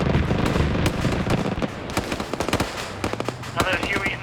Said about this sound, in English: fire some shots over there